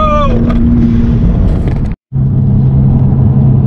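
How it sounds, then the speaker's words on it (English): A McLaren 570S engine accelerating uphill with its blow-off valve, a loud, continuous close-up rumble with a steady tone, briefly cut off near the middle before resuming at full strength. "I'm gonna hear that blow-off valve going nuts!"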